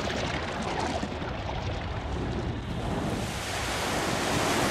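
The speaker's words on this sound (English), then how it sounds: "And down goes the water." Rushing water in the Paper Mario: The Thousand-Year Door video game, a steady broadband wash like surf or a draining flood that holds level for several seconds and swells slightly at the end, with no talk.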